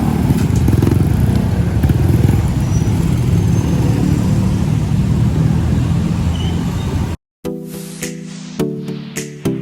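A KP K1 motorcycle-style electric bicycle climbs a parking ramp to the second floor of a Lotus store car park, a loud, continuous close rush of wind and road noise that cuts off abruptly, followed by brief echoing knocks.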